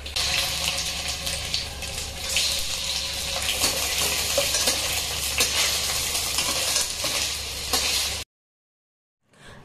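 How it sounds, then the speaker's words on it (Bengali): Paneer pieces fry in hot oil in a kadai, giving a dense, steady sizzle and crackle close by that runs unbroken for about eight seconds before cutting off to near silence. "এবার একে একে পনিরগুলোকে ভেজে নেব ভালো করে"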